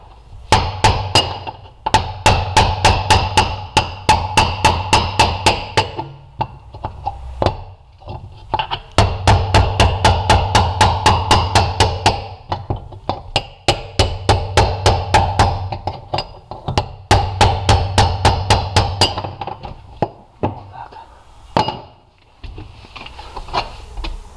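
A spare-tire bracket being hammered off a Toyota Venza 2.7 during an LPG conversion, with loud, rapid metallic blows in long rattling runs broken by short pauses, close and with no voices.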